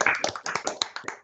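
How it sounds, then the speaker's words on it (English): Board members at a public board of directors meeting give a round of applause, a few people clapping in distinct uneven claps close to the microphone for just over a second before it fades out. "So round of applause, please, board."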